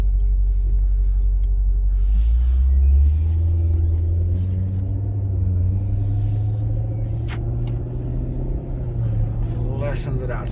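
A Maserati GranTurismo engine rumbles deep and steady up close, its low note swelling and easing as the car pulls away from park on a cold day, with voices occasionally over it.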